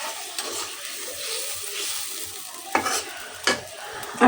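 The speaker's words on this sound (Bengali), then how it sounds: "এই যে কলই শাক আর এই যে সিম আলু, এটা দিয়ে একসাথে রান্না করব।" Greens being stirred and fried in a pan with beans and potato, a soft steady sizzle broken by a few sharper scrapes and clinks of the spoon, close and without talk.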